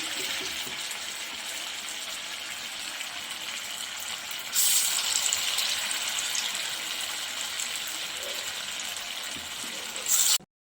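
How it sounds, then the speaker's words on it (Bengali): Soybean fritters dropped one by one into hot oil in a kadai over lowered gas fry with a steady, even hiss that swells louder midway and stays constant throughout. "কড়াই তেলটা এবার গরম হয়ে গেছে, আমি এবার একটা একটা করে বড়া ছেড়ে দিলাম গ্যাস কমিয়ে।"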